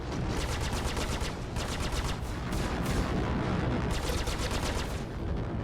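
Enemy Vanduul ship firing at the player in the space combat game Star Citizen, a dense continuous burst of rapid gunfire pulses, loud and unbroken throughout.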